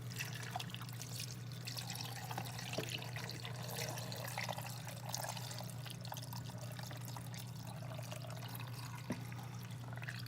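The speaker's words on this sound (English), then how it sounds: "And just pour that right over top." Gravy pours steadily into a crockpot over a beef roast in a continuous soft splash, close by, with a low steady hum underneath and no talking.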